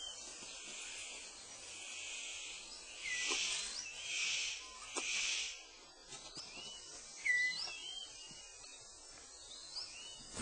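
A superb bird of paradise gives a courtship call to attract a female: bursts of bright, high, buzzy notes and a few sharp whistles, heard alone against a quiet forest background.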